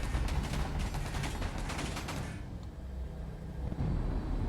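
Rapid turret gunfire from a ship in the space game Space Engineers, a dense burst of repeated shots filling the first half, then fading into a steady low rumble.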